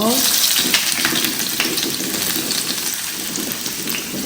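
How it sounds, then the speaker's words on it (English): Chopped onions dropped into hot oil for Ghanaian check check fried rice give a dense, steady sizzle and crackle close by, continuous throughout with no voice over it. "I have my oil already on the fire. So I'll go in with my chopped onions."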